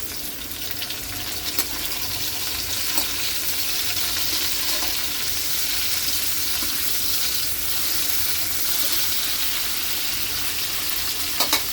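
Lemongrass hits hot oil in a pan while pork dinuguan is being cooked, giving a steady, close, continuous sizzle and fry hiss with occasional stirring clatter and no talking.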